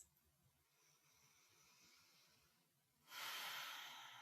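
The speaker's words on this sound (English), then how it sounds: "Deep breath." A single deep breath during an EFT tapping session: a soft, slow inhale followed by a louder, breathy hiss of exhalation near the microphone, with no talk.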